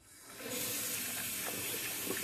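Cold water runs from a bathroom tap during a wet shave rinse, swelling quickly into a steady close hiss that continues without a break.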